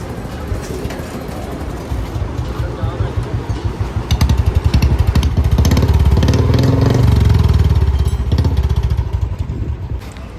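A modified Bullet motorcycle engine idles with a rapid, throbbing thump, then revs up louder and holds before settling back, close by, with faint voices underneath.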